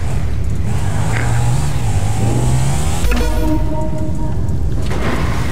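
A motorcycle engine in the FiveM video game revs up with rising, falling pitch, then shifts to a steady idle hum, loud and continuous throughout with no talk over it.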